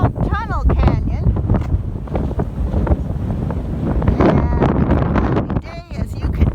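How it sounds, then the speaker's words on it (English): Strong gusty wind buffets the microphone at the rim of Tunnel Canyon in Canyon de Chelly on a cloudy day, a loud continuous roar with a voice speaking through it. "It's really windy."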